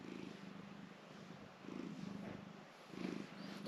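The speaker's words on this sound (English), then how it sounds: "Got a little purring helper." A house cat purrs softly and close by in a steady, low rumbling rhythm that swells gently in regular cycles, with no talking.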